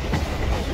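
A Kolkata Circular Railway local train runs along the Ganges between Majherhat and Dum Dum, giving a steady, close rumble of carriages with no voices over it.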